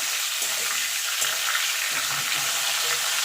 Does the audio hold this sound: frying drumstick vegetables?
yes